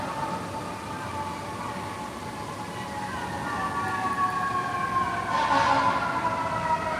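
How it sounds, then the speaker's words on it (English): Several fire truck sirens wail through a city street, held steady at first, then swelling louder and closer near the end over a constant bed of traffic noise. "Lots of fire trucks I've heard going by."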